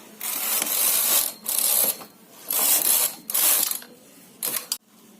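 Hand-operated knitting machine working a sock, its carriage ratcheting across the needle bed in five loud mechanical passes, each a sustained clattering whirr separated by short pauses, close by with no talk.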